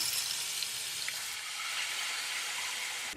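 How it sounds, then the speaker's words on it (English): Water pours steadily into a bowl, a continuous close hissing splash that runs evenly for a few seconds before stopping abruptly. "I'm gonna take this bowl right here and put some water in."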